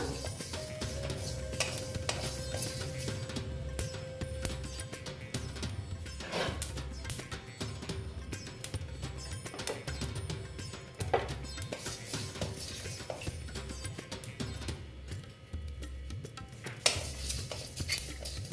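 Ingredients for a vegetarian pumpkin dish with panch phoron are fried in a pan. A soft sizzle continues under repeated scraping and stirring of a utensil against the metal, with occasional light clinks, close and fairly quiet.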